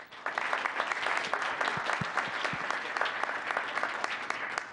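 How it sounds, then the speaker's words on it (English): An audience at a town council meeting applauds students with steady, brisk clapping that continues at even loudness throughout, heard alone without talk. "One more round of applause for these wonderful students."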